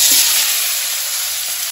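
Chopped tomatoes, three or four of them, drop into a hot pan for a jackfruit curry made without onion or garlic, setting off a loud, steady sizzle and frying hiss that holds throughout before cutting off abruptly at the end.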